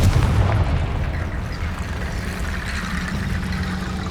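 A Confringo fire-spell blast in the Hogwarts Legacy video game: a heavy, sustained booming rumble, loud and dense from start to finish, with a thick low roar and no speech.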